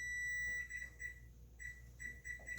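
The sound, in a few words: kitchen timer beeping while baking yeast bread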